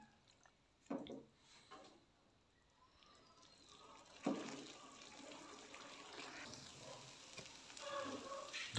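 Chicken with saag and spices fries in a pan, a soft sizzle that thickens into a steady crackle with scattered stirring clinks, moderately quiet throughout.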